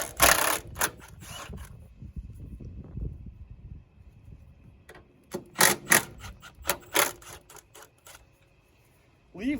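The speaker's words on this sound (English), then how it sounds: "Start by taking these bolts off." Bolts come off a Nissan Sentra front strut in bursts of sharp impact-wrench rattling, close and loud, with short pauses and ratcheting clicks between them.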